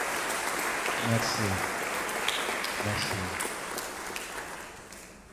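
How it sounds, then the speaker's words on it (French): A church congregation at a Holy Thursday Mass applauds the choir: a dense wash of clapping that slowly fades, while a voice speaks briefly over it. "On peut applaudir la chorale,"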